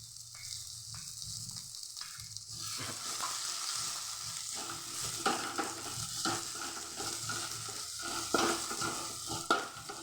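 Ground roasted gram being stirred into a potato and green pea curry in a pan, with a steady sizzle and frying hiss under repeated scraping strokes of a spoon that grow slightly louder toward the end.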